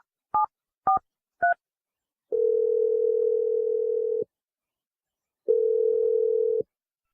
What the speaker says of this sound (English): I'm going to dial Lena's phone number right now